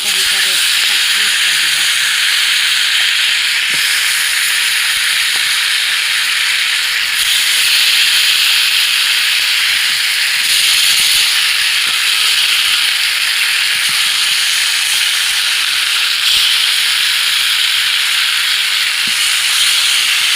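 Fish fat poured into hot oil in a wok for a pangas fish dish, giving a sustained loud hissing sizzle that swells and eases in a few waves over the whole stretch, with no voices.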